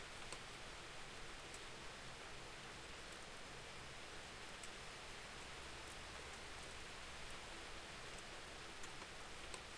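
Heavy rain falls in the medieval game Kingdom Come Deliverance as a steady, even hiss with faint scattered drops, quiet and continuous, with no talking.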